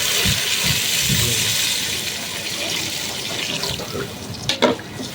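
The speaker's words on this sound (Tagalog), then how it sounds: "Lagyan natin ng tubig." Tap water running into a cooking pot for chicken-neck and milkfish sinigang, a steady continuous splash with a brief louder gush near the end and no talk.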